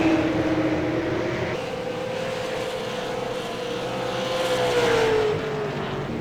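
A late model race car at Lucas Oil Raceway passes at speed. One engine's drone rises and then bends down in pitch as it goes by, with no other sound over it.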